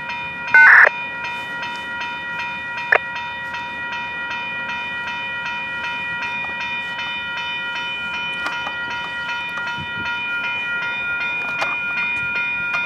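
CN train passing at a railroad crossing, with sustained steady ringing tones over a low rumble of rail cars, punctuated by a few sharp isolated clanks, loud and continuous throughout.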